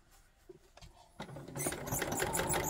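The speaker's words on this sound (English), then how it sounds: "You can also slow down your sewing machine." After a few soft clicks, a sewing machine starts stitching 18th-century trouser pieces, its rapid rhythmic whir getting louder and running steadily to the end.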